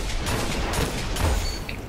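Gunfire in the shooter game Destiny during a Crucible Rumble match, a dense rumbling barrage of heavy shots and booms that runs continuously and loudly for about two seconds without speech.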